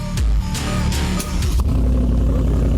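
A car with a modified exhaust revs hard nearby, rising and falling in bursts before settling into a loud, throaty idle rumble.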